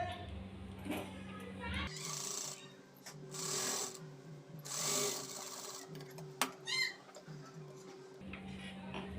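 A sewing machine stitches blouse lining pieces together in a few steady runs of a few seconds each, with a voice faintly in the background and occasional handling clicks.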